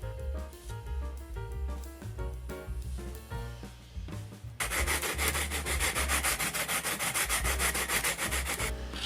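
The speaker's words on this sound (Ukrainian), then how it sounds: "ми прийнялись, тобто я, за шліфування самих ладів" Steady back-and-forth rubbing of abrasive on the metal frets and wood of an OLP John Petrucci guitar, light at first under music, then louder and continuous for the second half.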